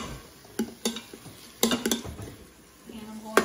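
Spoon stirring ingredients for chicken Florentine pasta in an Instant Pot, close by, with sharp metallic clinks against the pot coming in uneven clusters between quieter scraping, and a voice briefly heard.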